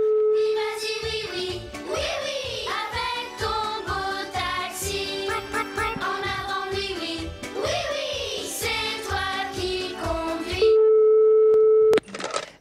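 A telephone hold melody plays in a comedy stage sketch, a bright tinkling tune with steady notes that runs for most of the stretch, then ends in a flat sustained tone before cutting off.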